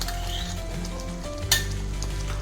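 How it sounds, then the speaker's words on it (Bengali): Fresh cream being stirred into dhaba-style butter paneer in a hot pan gives a steady close sizzle with soft scraping, plus one brief clatter midway; no one speaks. "ফ্রেশ ক্রিম দিয়ে একটু নেড়ে নেব"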